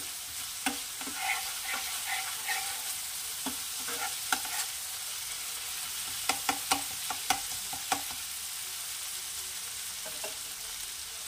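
Ginger-garlic paste frying in a pan, a low steady sizzle punctuated by scattered clicks and scrapes of a spoon against the metal, heard up close without any voices.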